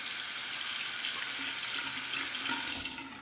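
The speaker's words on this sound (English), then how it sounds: "I'll cool it off, temper it under the cold water." Cold tap water runs steadily into a sink as a Fatip Lo Storto open comb slant bar safety razor is rinsed, a continuous close splashing hiss that stops abruptly near the end.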